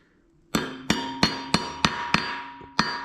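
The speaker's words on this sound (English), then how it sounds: "tap with the hammer" A hammer taps a 1/4 inch wrench to loosen a stud while fitting an 8-inch McGaughys lift on a 2019 Ram 2500, giving seven sharp metallic strikes at a steady pace, each ringing briefly, close and clear.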